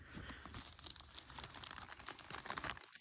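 A large Gerber Flat Iron cleaver blade slices into a package during an unboxing, giving steady crinkling and tearing of packaging material up close, continuous and fairly busy throughout.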